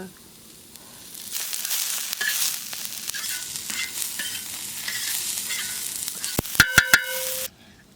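Oil sizzles steadily in a cooking pan after fried chili peppers are taken out, for a traditional Vidarbha rodge recipe, with a few sharp metallic clangs of a utensil near the end.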